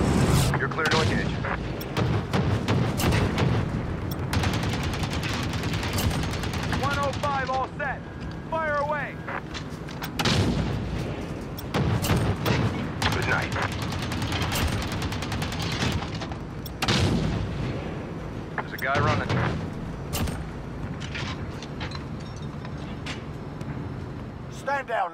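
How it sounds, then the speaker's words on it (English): Heavy gunship fire and explosions rumble through a Call of Duty: Modern Warfare battle, with loud, dense bursts of gunfire and booms that go on throughout while radio voices talk over the combat. "Heads up, we've got a gunship on station."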